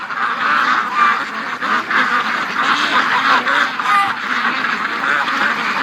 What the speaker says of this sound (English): All right, ducks, you gotta go to the lake.